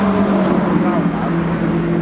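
Race cars at Brands Hatch overtaking, their engines making a steady, loud, close droning roar that holds a constant pitch throughout.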